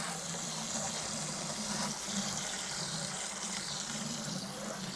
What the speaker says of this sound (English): And now I'm gonna break it down with this pressure hose.